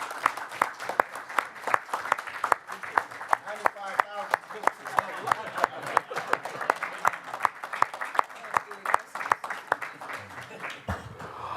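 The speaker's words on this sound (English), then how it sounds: "so we can give you all a round of applause." An audience at a board of education meeting claps steadily, a moderate, even patter of many hands continuing throughout, with faint voices underneath.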